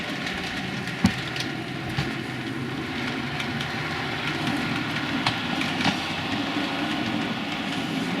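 A model railway locomotive runs along a home layout with a steady, close whirring hum and occasional light clicks as it rolls over the track. No one speaks.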